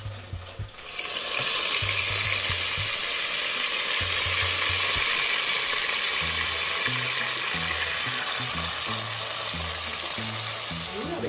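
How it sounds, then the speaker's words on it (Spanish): Onion and pepper sauté in oil in a pan, producing a constant loud sizzle that starts abruptly and holds steady, with faint background tones underneath. "en este mismo aceitito que nos quedó, vamos a sofreír la cebollita y el pimiento"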